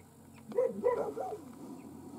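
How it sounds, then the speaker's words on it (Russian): Dogs at play in a remote taiga setting give a short burst of yips and barks, fairly faint and brief, over quiet background. "Собаки"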